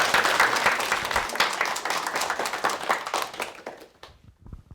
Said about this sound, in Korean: 김학래 씨 다시 한번 큰 박수 보내주십시오